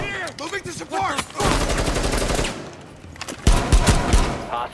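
Rapid automatic gunfire from the Rainbow Six Siege hostage-protection mode, with loud sustained bursts after a brief shouted voice, a short lull, then another heavy close volley.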